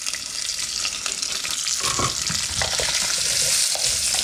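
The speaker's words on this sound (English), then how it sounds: "we're going to go in with our garlic and scallions" Garlic and scallions fry with browned pork in a pot for a Korean soft tofu stew, a loud continuous sizzle with stirring scrapes, close and without talk.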